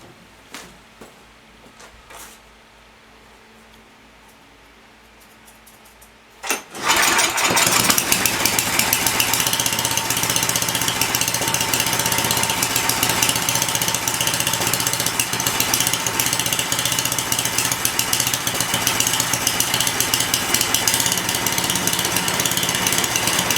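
A Mastercraft MTD snow blower's small engine starts after a quiet stretch of faint handling noises, then idles loudly and steadily while warming up, a rough, close, continuous chug.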